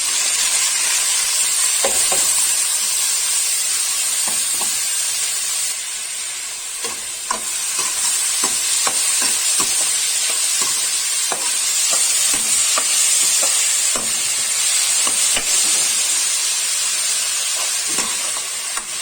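Carom seeds, asafoetida and onion-ginger-garlic paste fry in hot oil, giving a steady bright sizzle and hiss throughout with occasional stirring clicks and scrapes, no voices.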